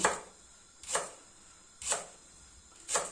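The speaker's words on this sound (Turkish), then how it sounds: "Aynı şekilde pırasaları da doğrayacağız." A knife chops leeks for bone broth on a cutting board, with four evenly spaced, crisp strokes about a second apart, close and clear with no voices.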